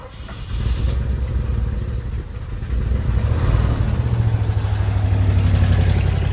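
A 1970s car with its rear mufflers cut off idles after a cold start, a steady low rumbling engine that grows slightly louder and rougher midway, close by with no talking.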